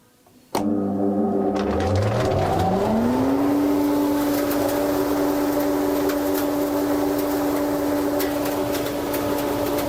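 A loud Felder AF22 dust extractor motor starts abruptly and spins up to a steady, droning whine that holds for the rest of the clip.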